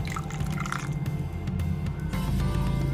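Water poured over boiled sago pearls sitting in a strainer, a steady close splashing and trickling stream that runs continuously through the whole stretch with a dense wet drip texture.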